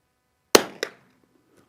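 A single .22LR rifle shot fired with Eley Team ammunition, a sharp crack followed quickly by a short echo and fading into silence.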